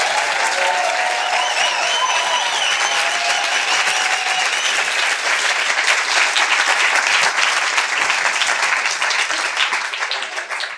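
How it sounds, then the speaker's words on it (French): Loud, sustained applause from an audience in a university lecture hall at a Ma thèse en 180 secondes event in Fribourg, a dense continuous clapping that holds steady before thinning out toward the end. "vous leur fassiez un énorme applaudissement"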